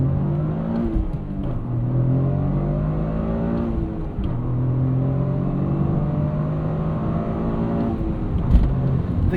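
2026 Toyota GR Corolla 300 hp hot hatch accelerating hard in city driving, engine note climbing through gears with brief dips at shifts, loud and steady from inside the car.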